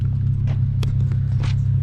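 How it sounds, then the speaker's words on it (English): An Infiniti G37 fitted with a Beluga exhaust idles in a school parking lot, a loud, steady low rumble with a few faint higher clicks above it. "so you guys can hear the exhaust"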